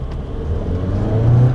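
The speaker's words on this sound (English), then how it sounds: "Gonna drive it into the driveway now." A car pulls up into a home driveway with a low engine rumble that swells slightly as it climbs. Heard close, briefly, and without speech.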